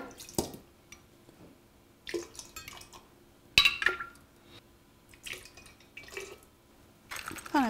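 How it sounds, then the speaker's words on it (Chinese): Homemade liquor poured into a glass, intermittent splashy trickles and drips with light clinks of glass, in short bursts separated by quiet gaps. "就用自己家泡的美酒。"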